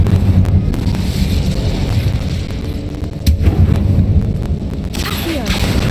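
The Incendio fire spell is cast in the Hogwarts Legacy video game inside a tomb, producing a loud, sustained roaring whoosh with a sharp, crackling burst partway through.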